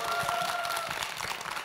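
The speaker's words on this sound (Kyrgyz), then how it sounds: "Кол чабалар болсун." An audience breaks into applause, a dense patter of many hands clapping at moderate distance, steady for a couple of seconds and then slightly thinning, with no talk over it.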